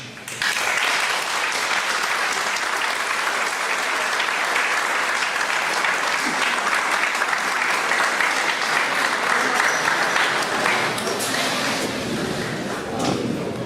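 A lecture audience breaks into a long, steady round of applause, dense clapping holding at an even level throughout with no voices over it.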